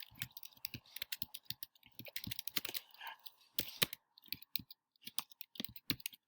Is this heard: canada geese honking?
no